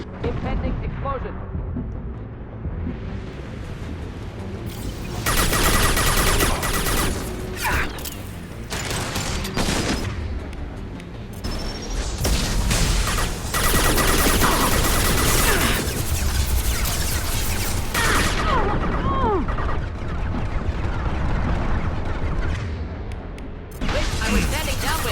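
In Mass Effect 2 Legendary Edition combat, explosions go off amid loud bursts of gunfire and clanking mechanical impacts, continuous and dense throughout, with voices talking over the battle.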